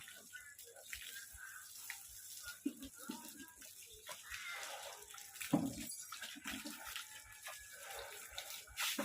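Water from a hose sprays over a young bull elephant in Surin as he's washed, a steady broadband hiss with splashing and rattling bursts, close and fairly loud, with someone talking intermittently over it.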